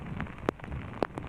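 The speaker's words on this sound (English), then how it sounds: "it is just chucking it down with rain" Heavy rain pouring down during a lightning storm in the Houston area, a dense steady hiss with two sharp loud cracks or impacts cutting through it.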